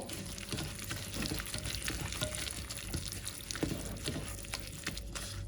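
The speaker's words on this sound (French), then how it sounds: "On mélange à l'aide d'un gant." Spiced marinade for lamb chops mixed by a gloved hand, wet squelching and sloshing sounds repeating closely and steadily, moderately quiet.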